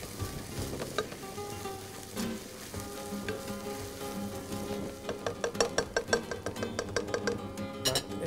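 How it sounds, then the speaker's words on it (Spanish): Chopped onion and leek fry in a pan for a gluten-free, lactose-free saffron capon, giving a steady soft sizzle with occasional stirring scrapes and brighter crackling pops toward the end. "La cebolla tiene más cochura, más fritura que el puerro, por eso se lo echamos un poquito antes"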